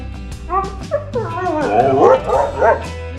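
A husky howls and whines loudly and close by, its voice rising and falling in a long, talk-like run of yips and drawn-out wavering cries.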